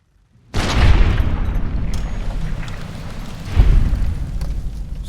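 Fireworks explode in a video game with a loud, sudden boom followed by a long, crackling rumble, then a second heavy blast a few seconds later that fades into a rolling echo.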